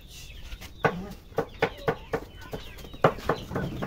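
Chickens hurry out of an opened coop, giving a string of short, sharp clucks at irregular intervals, fairly close but soft against a quiet farmyard background.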